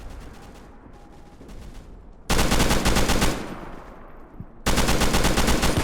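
Rapid bursts of automatic gunfire from the video game Scorched Earth rattle loudly in two long sustained volleys, separated by a quieter stretch of lighter shooting.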